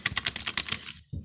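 Computer keyboard typed at a steady quick pace, about a dozen crisp clicks close up for a second, then one softer thud after a brief pause; no voices.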